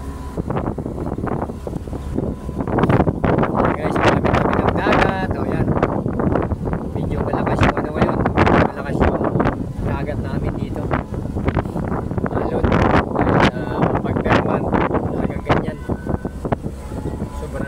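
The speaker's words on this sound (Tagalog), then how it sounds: "Lalaki ng alon, saka malakas ang hangin." Strong wind buffets a boat on rough sea with big waves, a loud continuous roar of gusts and water that runs throughout while people talk over it.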